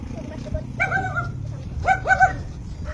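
A dog along a rural farm path beside corn fields gives two bursts of high, whining yelps and whimpers, each with a few rising and falling cries, over steady outdoor background noise.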